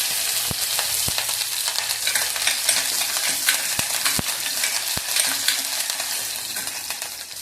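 Mustard seeds, cumin and green chilies fry in hot oil with a loud, continuous sizzle, broken by sharp clicks and taps of a spoon stirring against the pan.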